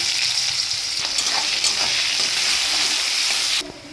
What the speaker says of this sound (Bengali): এই তেলে আমি পেঁয়াজ দিয়েছি।